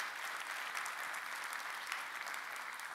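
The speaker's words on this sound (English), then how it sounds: "That deserves a big round of applause." Conference audience at an airport business diversity opening session fills a large hall with dense, even applause, a continuous wash of many hands clapping, faint and distant throughout.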